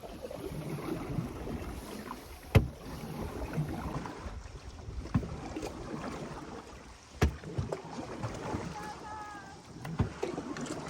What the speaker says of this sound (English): everyone can paddle forward